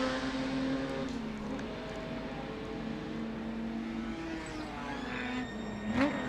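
Historic race cars, a Cooper Jaguar and a Lister, pass at the Goodwood Revival with sustained engine drone and shifting pitch, rising as one nears and sweeps by at the end.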